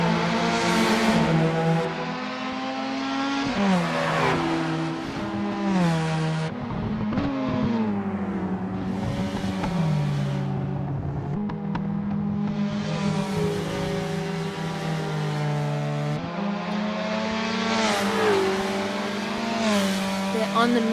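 Race cars accelerate and rev around Sydney Motorsport Park in an ATCM championship round, engines climbing and dropping through the gears with loud, sustained roars and one car shifting up, under continuous commentary.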